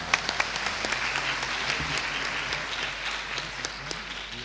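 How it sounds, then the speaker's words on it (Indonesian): A graduation ceremony audience applauds steadily, a dense wash of many hands clapping at a moderate distance, continuing without break throughout. "Tepuk tangan kalau semangat ya."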